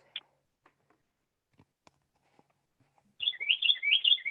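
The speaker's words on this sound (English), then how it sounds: "Oh, you can hear the bird? Oh yeah. Sorry, it's from the window." Birds chirp and trill in quick, bright bursts just outside a window, starting with a single distant note and then swelling into a dense, lively run of song toward the end.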